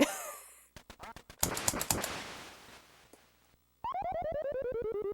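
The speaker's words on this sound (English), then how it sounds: "You get laughed at by your dog." Retro game sound effects: a burst of quick clicks and noise, then a rapid, evenly pulsed electronic chuckle that repeats steadily to the end.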